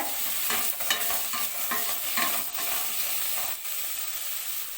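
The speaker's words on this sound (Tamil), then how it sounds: "ஒரு பச்சை மிளகாவை சேர்த்துக்கோங்க, அதையும் நல்லா கலந்து விடுங்க." Ginger, garlic and green chili being stirred and sautéed in a hot pan for a Tamil sweet corn gravy, a steady close sizzle with scraping stir strokes throughout, no talking.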